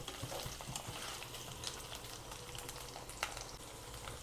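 Potatoes frying in a pan for a rui fish curry, a quiet, steady sizzle with occasional soft clicks of stirring.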